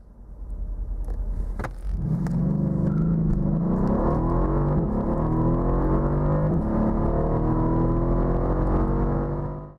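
A Mercedes W212 sedan pulls away hard from standstill toward 100 km/h, its engine note rising steadily through the gears with a loud, continuous, close-up roar.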